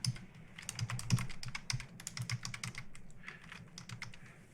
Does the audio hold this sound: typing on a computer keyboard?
yes